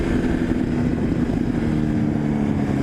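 A Honda CBR1000RR sport motorcycle fitted with a full Akrapovic exhaust holds a steady, loud, deep engine drone while riding, with a constant low rumble and no talk.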